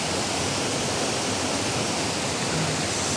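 A waterfall pours into a pool, giving a steady, loud broadband rush of falling water that stays constant throughout with no voices.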